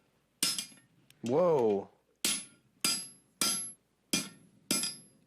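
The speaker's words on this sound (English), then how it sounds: "We were actually able to heat up some steel and knock it around a little bit" Heated steel struck with a hammer on a makeshift anvil: about six sharp, ringing metallic blows in an uneven rhythm, close and loud, with a brief exclamation from a voice between strikes.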